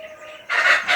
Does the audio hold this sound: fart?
no